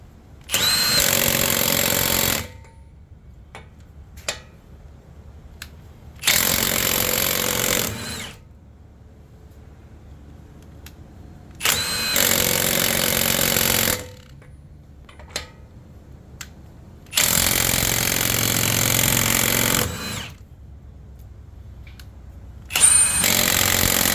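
Four bursts of a Milwaukee 1/2 inch impact wrench hammering loose semi-truck style lug nuts, each loud rattling run lasting a few seconds, separated by quiet pauses with small clicks and handling sounds.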